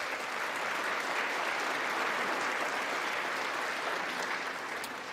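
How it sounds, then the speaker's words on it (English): Steady, even roar of applause from a large chamber audience during a Speaker of the House's acceptance speech, heard somewhat distant and continuous throughout. "That's an applause line."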